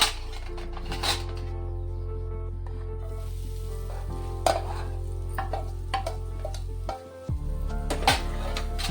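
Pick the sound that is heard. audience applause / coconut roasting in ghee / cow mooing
coconut roasting in ghee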